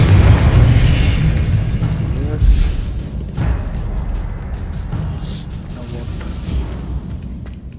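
A Confringo fire-bolt spell explodes in Hogwarts Legacy, a loud booming blast at the start followed by rumbling combat noise and further thuds that slowly fade, with a voice speaking over the din.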